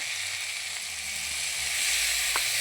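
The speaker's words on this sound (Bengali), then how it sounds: "আর গুলে রাখা লঙ্কা গুঁড়োর জলটা দিয়ে দেব" Chili powder mixed with water poured into hot spices in a pan while cooking jackfruit, giving a steady close sizzle and frying hiss throughout with a brief sharper crackle near the end.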